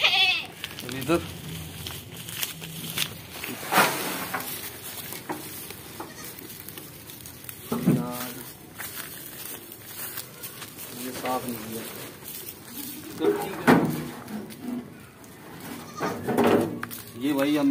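Goats bleat in a pen being rebuilt at a small farm, several short calls scattered across the stretch, moderately close, with people talking and handling things throughout.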